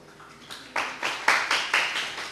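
A few people clap a short run of sharp, evenly spaced claps during a church worship service, moderately close and fairly quiet, with no talking over them.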